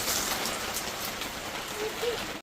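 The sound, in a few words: heavy rain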